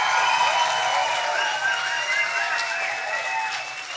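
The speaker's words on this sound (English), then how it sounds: "How does a stage 10 applause sound like tonight?" A Science Slam crowd applauds steadily and loudly throughout, a dense wash of clapping with some whistles or cheers mixed in, fading slightly toward the end.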